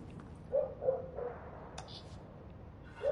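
Several dogs bark nearby in a few short bursts, moderately loud against a quiet indoor background.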